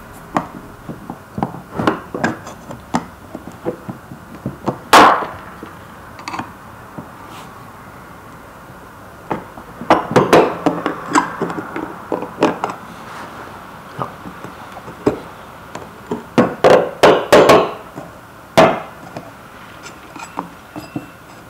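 Two flathead screwdrivers pry at a hoverboard wheel's plate, which sits tight on ball bearings, giving scattered close metallic clicks, scrapes and taps that come in irregular bursts.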